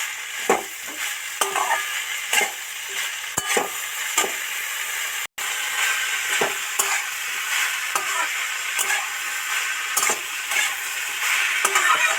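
A banana-flower filling for samosas being stirred and mixed as it fries in a pan, a constant bright sizzle broken by repeated rhythmic scrapes and knocks of the spoon, no one talking.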